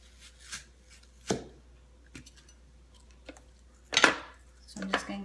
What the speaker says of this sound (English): we're just gonna cut them down again, just in half, so they cook down evenly